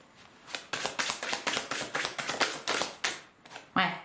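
A tarot card slapped down over another card gives a string of crisp taps and soft card rustles in quick, uneven succession, close and fairly quiet, with a voice talking around them.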